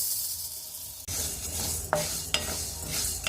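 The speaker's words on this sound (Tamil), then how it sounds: "இதுக்கு 100 கிராம் கருப்புழுந்து கடாயில் சேர்த்துக்கிறேன்" Black urad dal goes into a hot kadai, and a quiet hiss jumps to a dense, close rattling sizzle, broken by a few sharp scraping clicks as the lentils are moved around.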